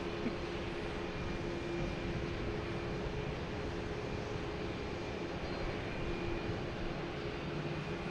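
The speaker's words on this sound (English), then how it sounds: "we have Scandinavian Airlines passing in review in front of us here" A Scandinavian Airlines airliner rolls past at Boston Logan Airport in the evening, its engines a steady, distant broadband roar with a faint whine, continuous and unchanging throughout with no voices.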